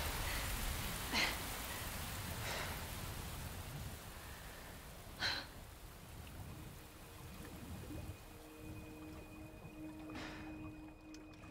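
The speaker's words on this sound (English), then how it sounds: "Oh, it's raining." Steady rain pours in the Resident Evil 4 Remake game, a broad continuous hiss with a few louder splashes and a faint tonal hum coming in toward the end.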